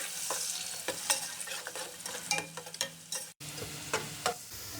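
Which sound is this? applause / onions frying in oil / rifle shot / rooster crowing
onions frying in oil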